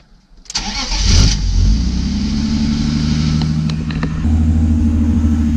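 A BMW E30 engine cranks briefly, catches with a loud burst, then settles into a steady, throaty idle with a few small revs, heard up close.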